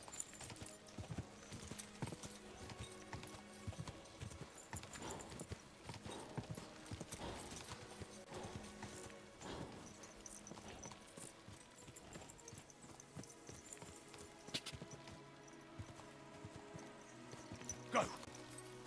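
Horse hooves clip-clop steadily at riding pace in the medieval game Kingdom Come: Deliverance II, close and continuous over a busy game soundscape with an occasional whinny.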